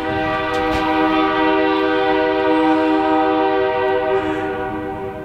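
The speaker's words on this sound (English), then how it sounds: "How long can you pull the whistle?" A train horn blows loud and sustained, one long continuous blast held for several seconds close by, its steady chord dominating over low rumble with no talk.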